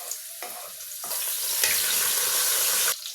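Cooking oil heats in a pan for a mung bean dish, crackling loudly and close with bursts that build into a continuous sizzle before cutting off sharply near the end.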